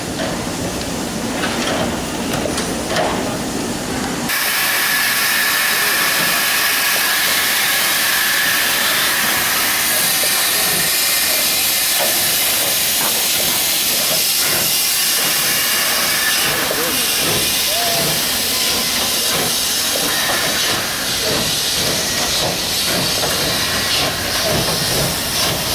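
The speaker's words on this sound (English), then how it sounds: "It's a big engine." A big train engine in the Netherlands lets out a loud, continuous hiss of steam that swells abruptly after a few seconds of rumbling station noise and stays strong and close throughout.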